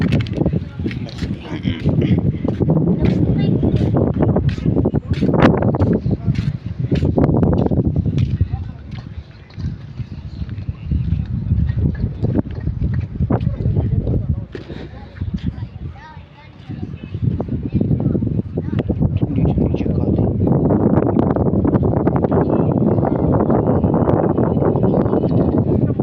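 A strong, gusty wind roars outdoors with heavy, continuous rushing buffeting that rises and falls in loud waves, with people talking faintly underneath.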